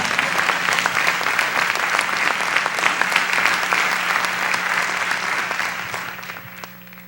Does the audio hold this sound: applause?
yes